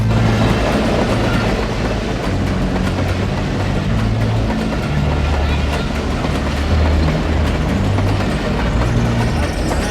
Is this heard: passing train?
yes